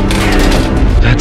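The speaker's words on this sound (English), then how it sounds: "That's an M60." An M60 machine gun fires in a war setting, its sustained automatic bursts loud and dense for about a second amid a busy battlefield din.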